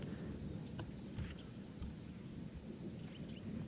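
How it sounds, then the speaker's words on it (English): Low, continuous rumbling from an African thunderstorm approaching at a distance, faint and steady beneath light background noise. "Now listen to the thunder that's coming in."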